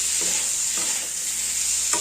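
Potatoes being lightly stirred as they fry in a pan while making a quick Bengali fish curry, with a steady close sizzle and a few soft scraping strokes.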